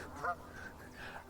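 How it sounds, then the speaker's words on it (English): Large ducks honk in the Peak District at Cromford, giving a brief, fairly faint honk over steady outdoor background noise. "big ducks"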